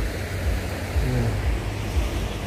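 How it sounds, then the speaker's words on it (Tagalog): A flowing stream with babbling water, a dense steady rushing wash with low rumbling buffets, loud and continuous throughout. "Kitang-kita mong agos ng tubig. Ang lagaslas ng tubig."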